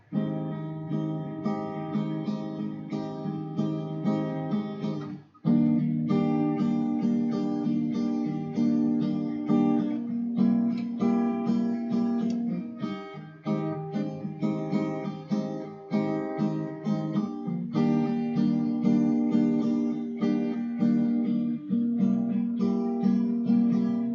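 Acoustic guitar plays a steady strummed intro to a song with ringing chords, a brief pause near the start, then continuous rhythmic strumming at close range.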